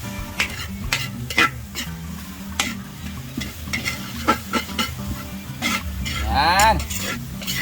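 Basil, string beans and oyster sauce are stirred in a sizzling pan with steady scraping and clanking of a spatula against the metal, frying noise constant throughout, with faint background voices.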